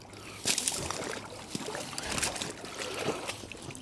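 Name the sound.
flood water trickling under frozen ice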